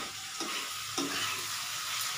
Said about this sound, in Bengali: মশলাটা একটু সাঁতলানো হোক